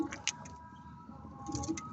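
Pet pigeons in a loft cooing softly in short low bursts, with faint chirps and light rustling nearby, fairly quiet overall.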